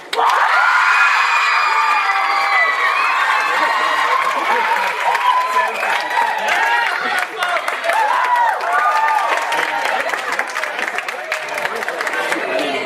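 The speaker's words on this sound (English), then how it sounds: "Cheer for Larry!" A lively crowd cheers and screams for a contestant at a live show, high voices shouting and whooping over scattered clapping, loud and continuous throughout.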